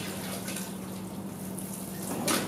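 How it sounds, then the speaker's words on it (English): Liquid drains from grape stalks during bathtub winemaking, a continuous soft trickling and dripping heard up close, steady and without talk. "I'll try and get that to drain a bit."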